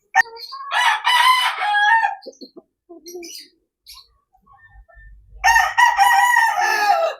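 A backyard rooster crows loudly and close by, two long drawn-out calls separated by a quiet gap with faint clucks and small bird sounds in between.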